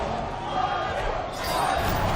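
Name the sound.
crowd chanting at fighting game tournament grand final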